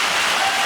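A podcast applause sound effect plays as a short, dense, even burst of clapping, loud and close with no talk over it.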